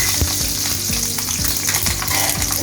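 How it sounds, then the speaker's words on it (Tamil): Green chillies drop into hot oil already holding cinnamon, cloves, cardamom and stone flower, giving a loud, close, continuous sizzle with repeated spoon or spatula knocks against the pan. "இப்போ இந்த பச்சை மிளகாய் போட்டுருவோம்"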